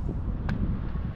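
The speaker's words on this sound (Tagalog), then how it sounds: "Lakas ng hangin." Strong coastal wind buffets the microphone in a dense, low, continuous rumble across the brief moment, with a faint short tonal blip briefly rising above it.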